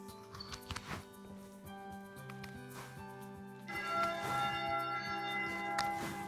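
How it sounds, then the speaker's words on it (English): A wishing bell in a hilltop bell tower in Slovenia rings out with three pulls on its rope, each stroke leaving a long, close, resonant hum that layers and swells toward the end. "And this is the rope to that wishing bell."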